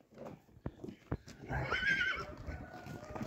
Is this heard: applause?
no